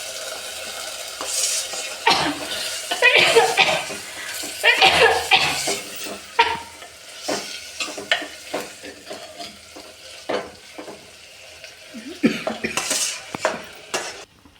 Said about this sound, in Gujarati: આપણે એની અંદર બધા જ બટાકા નાખી દઈશું.